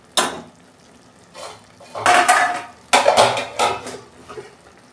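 Lid set onto a pot of cabbage and potato curry cooking in a little water, heard as several close metallic clanks and clatters in short bursts separated by near-silence.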